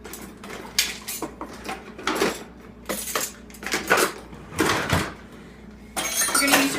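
A whisk beats eggs in a bowl, clattering and clinking against the sides in uneven bursts of rapid strokes with brief pauses between them, close and fairly loud.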